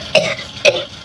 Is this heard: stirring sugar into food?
no